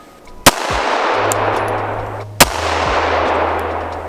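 Two sharp pistol shots from a braced FLUX Defense pistol fired freehand at steel plates outdoors, each a loud isolated crack about two seconds apart, followed by a steady hum in the background.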